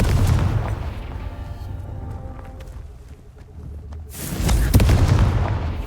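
A loud Confringo blasting spell explodes in Hogwarts Legacy, a broad booming burst near the end following a rumbling stretch of game ambience and faint magical shimmers.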